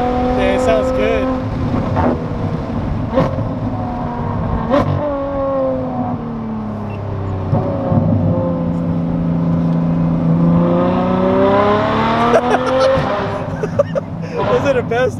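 A Ferrari F12 Berlinetta's engine revs repeatedly, pitch sweeping up and down, loud and close, with people talking in the background.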